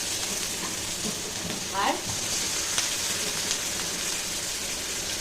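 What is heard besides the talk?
chopped onions frying in oil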